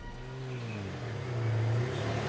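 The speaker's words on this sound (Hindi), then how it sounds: "गाड़ी की आवाज।" Car engine revving in a CID ghost-story TV drama, a steady engine hum that rises in pitch and grows louder, heard close with no talk over it.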